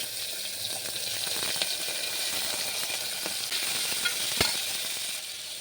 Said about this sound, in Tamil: கடுகெல்லாம் நல்லா பொரிஞ்சதுக்கப்புறம் நறுக்கி வச்ச காய்கறி எல்லாம் போட்டு நல்லா வதக்கிக்கணும்